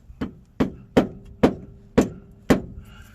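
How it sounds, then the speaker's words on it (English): Six sharp, evenly spaced knocks ring out one after another, each a solid mallet strike with a short decay, while fitting a front bumper on a 1994–2001 Dodge Ram. "I hammer it through a mallet."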